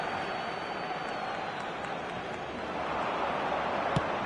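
A football stadium crowd roars and murmurs as momentum shifts in a match, a broad continuous wash of noise that swells slightly toward the end, with a brief sharp peak near the close.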